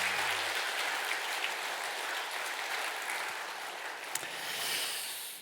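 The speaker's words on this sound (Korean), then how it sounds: "박수." Quiet, steady applause from a church congregation during a children's Sunday service, heard at a distance as a soft, even patter with one brief louder clap near the end.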